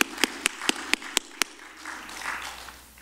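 A Korean church congregation in New York claps in welcome for new members, a handful of sharp evenly spaced claps that stop after about a second and a half, followed by quiet room murmur.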